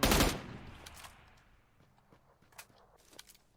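A burst of gunfire from the video game PUBG Lite rings out loud and close at the start, then gives way to faint scattered shots and clicks in the distance.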